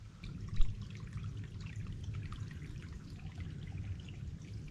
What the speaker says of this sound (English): that water cutting across the trail here